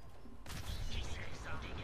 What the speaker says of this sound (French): la voiture va exploser.